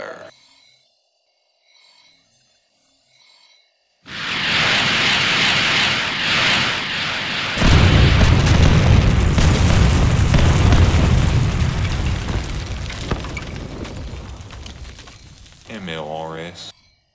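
Rocket battery volleys and explosions in Command & Conquer Generals Zero Hour on the Chocolate Hills map: near silence with faint voices, then a sudden roaring barrage of blasts that swells into a long rumbling roar and fades, with a brief radio-like voice at the end.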